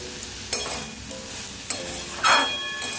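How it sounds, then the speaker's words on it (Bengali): Bitter gourd chorchori frying in a pan with mustard gives a continuous moderate sizzle, with a few sharp spatula clinks and a brief louder stirring rush near the end, no speech. "এটা আমার ভাজা হয়ে গেছে"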